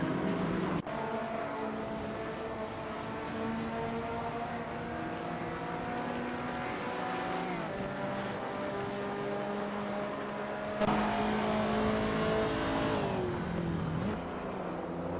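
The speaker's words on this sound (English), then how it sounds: "watch some AI cars zip around like they're trying to escape their responsibilities" AI-driven race cars zip around a track in a racing video game, their engines whining in steady layered tones that rise and shift as the cars pass, with a brighter burst of noise near the end.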